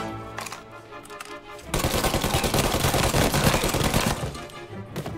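Automatic gunfire rattles in Mafia: Definitive Edition. Sparse shots give way to a long, dense, close burst of rapid fire that fades near the end.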